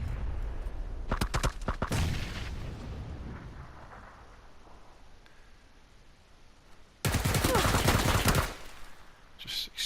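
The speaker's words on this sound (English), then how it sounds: "Just exchanging shots" Gunfire rattles in PUBG, with a sharp burst of rapid shots early on and a second loud, dense volley later, separated by quieter ambience and some faint talk.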